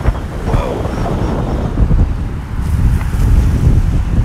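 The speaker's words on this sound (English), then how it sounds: "this wind is really, really picking up" Strong wind buffets the microphone outdoors at sunset, giving a loud, continuous low rumble with gusty swells and no talking.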